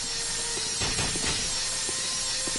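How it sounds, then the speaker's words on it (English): The Whirligig Saw, a chainsaw-on-a-stick weapon in Bloodborne, revving with a steady mechanical whir and grinding hiss. Several louder surges sit in the middle of the clip, and no one talks. "It's a chainsaw on a stick."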